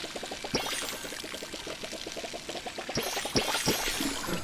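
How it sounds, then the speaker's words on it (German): Watering crops in the video game Palia: steady pouring water with rapid rhythmic splashing, plus a few louder sharp clicks, fairly close, no talking. "Ich mache nur mal schnell ein bisschen Wasser nochmal drauf,"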